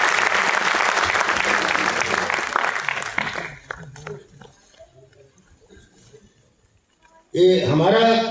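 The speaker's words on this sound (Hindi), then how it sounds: "लेकिन उनके नाम की तालियां आप खुल के बजा सकते हैं।" Audience applause at a public event in India: a dense wash of clapping fades out over a few seconds, followed by quiet, then a voice begins speaking loudly.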